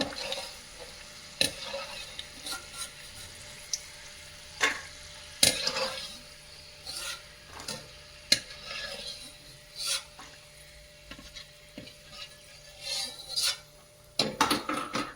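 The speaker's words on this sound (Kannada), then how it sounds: "ನೋಡಿ ವೀಕ್ಷಕರೇ, ಶೇಂಗಾನು ಈ ರೀತಿ ಹುರ್ಕೊಳ್ಬೇಕು" Peanuts roasting dry in a pan while being stirred, giving repeated scraping and rattling strokes over a faint sizzle, close and irregular, with a louder flurry of stirring near the end.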